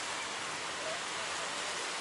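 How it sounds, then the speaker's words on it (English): Steady rain falls during a bicycle tour on Hokkaido's Route 66 hills, a dense, even hiss that continues unbroken throughout without any talk. "Rain, more rain, there's just more rain."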